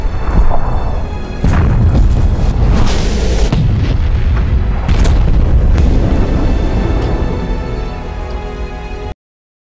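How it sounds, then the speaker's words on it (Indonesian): A film explosion set off by a detonator, wiping out a colony of feral creatures: loud, sustained booming rumble with several heavy bursts over most of the clip, then abrupt silence. "George akhirnya mengaktifkan detonator dan ledakan membunuh semua feral yang"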